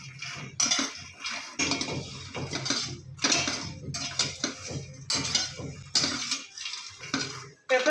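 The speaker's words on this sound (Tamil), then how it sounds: "நம்ம ஏற்கனவே நெய்யில் வறுத்து வச்சுருக்க மக்கானா போட்டு நல்லா ஃப்ரை பண்ணணும்." Makhana (fox nuts) being stirred in a pan with ghee, a spoon scraping and clattering against the metal in repeated loud bursts with short pauses between strokes.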